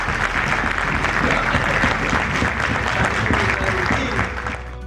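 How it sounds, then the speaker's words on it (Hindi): An audience at a Hindi poetry gathering applauds steadily, dense and loud throughout, fading slightly at the end. "क्या मैंने तुमको ताली बजवाई थी"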